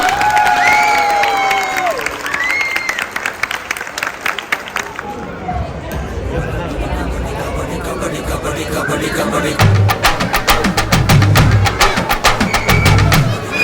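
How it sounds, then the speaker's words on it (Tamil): Crowd at a Tamil New Year community gathering honoring a former board, with scattered clapping, cheering and children's shouts mixed with nearby chatter and voices, rising into fuller applause near the end. "ஒவ்வொரு தலைவர்கள் இந்த நிர்வாக குழு எல்லாருக்கும் சேர்த்து இன்னும் ஒரு பலத்த கரகோஷம் கொடுக்கலாமா?"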